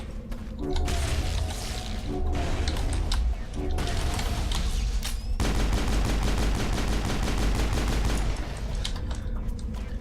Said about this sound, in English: Notice I was the only one shooting.